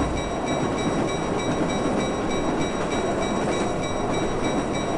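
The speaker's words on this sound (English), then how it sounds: "Oh, there's the train." A train rolls past in the video game Marc Ecko's Getting Up, a steady, loud, dense rumble of rail noise with no talking over it.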